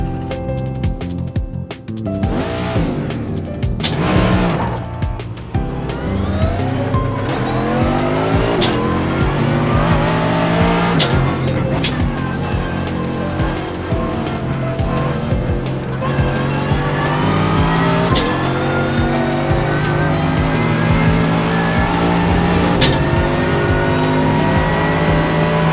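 Mercedes-AMG GT3 race car in iRacing, its engine running loud and steady throughout with rising and falling revs, gear changes and occasional tire squeal.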